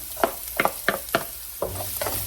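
Garlic sizzles in a hot pan as a utensil stirs it in about five distinct scraping strokes, then a steady close-up frying hiss carries on.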